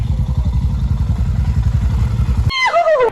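Several motorcycles arrive together on a road trip in Kerala, engines thrumming steadily and close for over two seconds before cutting off, followed by a brief high, wavering tone.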